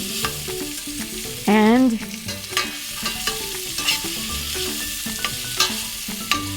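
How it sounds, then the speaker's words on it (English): Cashew nuts stir-fried in oil in a pan, with a steady sizzle, clatter and scraping of the spoon throughout and a brief tonal whine partway through. "We will quickly stir fry"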